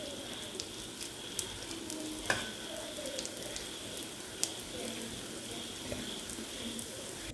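A moong dal dosa (pesarattu) sizzles in oil on a pan, a steady faint frying hiss with scattered small pops and crackles.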